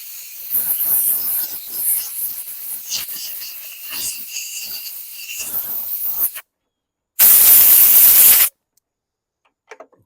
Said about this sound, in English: let me air blast this out